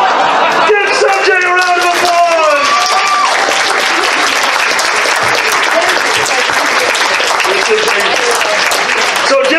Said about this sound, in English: Huge round of applause for doing a very scary first-time game.